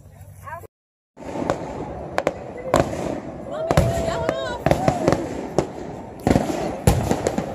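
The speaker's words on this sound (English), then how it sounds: "Fireworks?" July 4th fireworks crack and pop in a scattered series of sharp bursts, with people talking and a crowd murmuring throughout.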